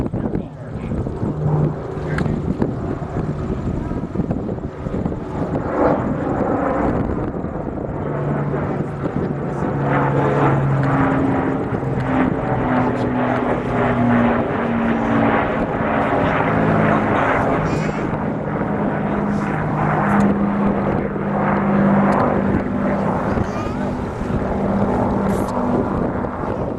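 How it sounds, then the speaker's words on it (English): Mark 9 Spitfire landing, then making a high-speed pass over an airfield during a memorial flight display. A loud, steady piston-engine roar with a droning harmonic hum lasts the whole clip, mixed with wind buffeting on the microphone. "And there's Rick Volker landing the Mark 9 Spitfire."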